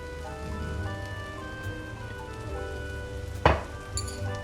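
Ghee sizzles under an aloo paratha in a hot pan, a soft continuous crackle and hiss broken by one sharp scrape near the end.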